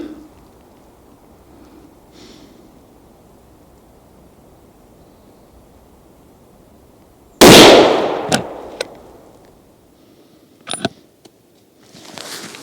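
A single loud shot from a Haenel Jaeger NXT straight-pull rifle chambered in 30-06, a sharp crack with a short decaying tail outdoors, followed by a few faint clicks of handling the action.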